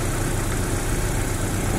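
A Chevrolet Blazer/S10 engine idles nearby with a steady, low rumbling drone and even mechanical vibration, no voices over it.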